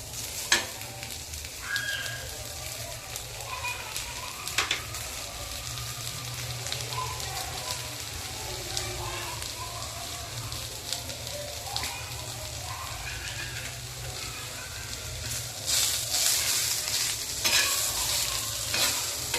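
Finely chopped onion frying in oil in a pan for a village-style eggplant curry: a continuous broad sizzle with scraping and stirring clatter, sharp clinks now and then, swelling louder toward the end, no talking.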